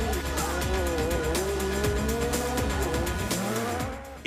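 Peugeot 205 T16 Group B rally car racing, an engine wailing and shifting pitch with tyre squeal and skidding, loud and close before fading at the end.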